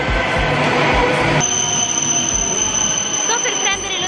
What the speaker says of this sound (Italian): Sto per prendere lo Shinkansen, che è il treno ad alta velocità